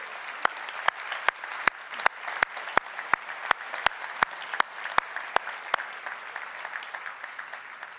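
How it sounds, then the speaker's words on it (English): An audience at the New York City launch of Lehigh's fundraising campaign claps steadily, a dense patter of hands with sharp periodic clicks running through it. "why don't we give ourselves a round of applause?"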